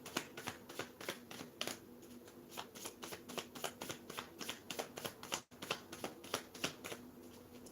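Playing cards riffle and shuffle in a quick, steady rhythm of crisp flutters, soft and close, with a brief pause partway through.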